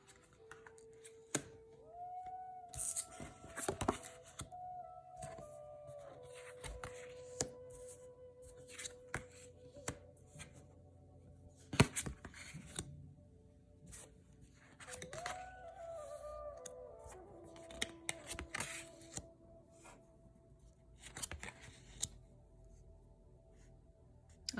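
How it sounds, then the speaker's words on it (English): Tarot cards flipped over and laid down during a reading, giving soft scattered slaps, shuffles and papery rustles at close range, quiet and irregular, with a few sharper taps and no talking. "So I'm just going to flip a couple cards over here."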